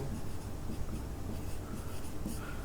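Marker or chalk scratching across a board while a maths derivative problem is worked out, a steady close scrape with short stroke bursts running continuously without talk.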